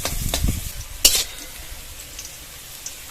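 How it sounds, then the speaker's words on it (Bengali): Bitter gourd pieces frying in a pan without salt or turmeric: a close hiss of sizzling oil, with a sharp spatula scrape near the middle before the sizzle settles to a softer, steady crackle. "উচ্ছের মধ্যে কিন্তু লবণ হলুদ দেবো না, শুধু এইভাবে ভেজে নেবো"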